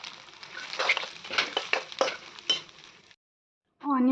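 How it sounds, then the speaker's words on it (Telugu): Onions frying in a pan until golden brown for chicken biryani, heard as a close sizzle with spoon-stirring scrapes for about three seconds, then brief silence before a voice begins. "ఆనియన్స్ని అయితే మంచిగా ఫ్రై చేసుకోవాలి, మంచిగా గోల్డెన్ బ్రౌన్ కలర్ వచ్చే వరకు"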